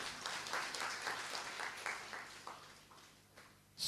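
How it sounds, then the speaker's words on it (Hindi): Audience applause fills a spiritual discourse hall, steady clapping from a crowd of listeners throughout, moderately faint and somewhat distant, with a brief louder burst near the end. "तो तालियां तो बजाओ जरा।"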